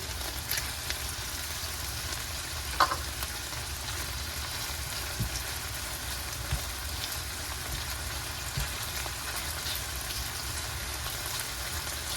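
Chicken liver frying in a pan gives a quiet, steady sizzle and crackle like light rain, with a few soft clicks and pops, heard alone and fairly faint.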